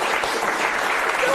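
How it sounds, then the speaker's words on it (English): An audience claps steadily through a short stretch after a card magic trick, a dense, even burst of applause with no pauses. "give Latrice a round of applause"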